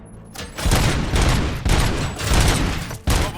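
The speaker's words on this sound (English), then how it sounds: "Gunshots? What's going on?" Loud bursts of gunfire in RoboCop Rogue City, several rapid volleys of overlapping shots crackling in close succession, each cluster fading briefly before the next.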